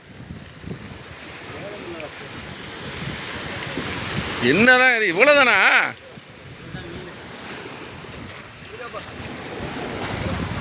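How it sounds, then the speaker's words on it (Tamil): Strong wind buffets a fishing boat out at sea, a steady roar of gusts and wind noise on the microphone throughout, with a louder tonal whine or engine swell in the middle; people speak briefly over it. "உரமான காத்தியா? சரியான காத்து."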